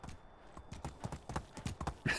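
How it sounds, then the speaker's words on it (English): Horse hooves clip-clop at a steady riding pace in the medieval survival game Medieval Dynasty, close and distinct, with no talk over them. "I can drink water while I'm riding my horse."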